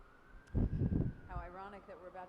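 An ambulance siren passes by during a Kabbalat Shabbat service, a faint wailing tone that rises in from the distance after a burst of louder noise nearby.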